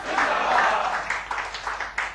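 Audience applause at a Hindi poetry event, a brief swell of clapping that fades into scattered claps.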